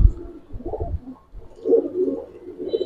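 Silver pigeons coo nearby in low, soft repeated rolling calls, two or three phrases with short pauses, loud and close with no voices.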